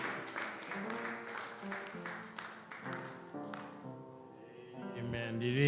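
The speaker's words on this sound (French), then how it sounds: "Est-ce que nous pouvons applaudir pour le Seigneur?" A church congregation claps in quick rhythmic bursts alongside music with tonal accompaniment, the clapping fading as a sustained musical tone rises toward the end.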